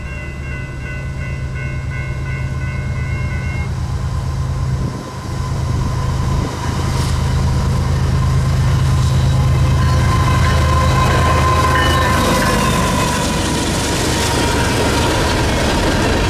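A Norfolk Southern freight train with a BNSF locomotive trailing second rumbles past loudly and close, a sustained heavy roar with wheel clatter and a brief horn-like tone near the start, no voices.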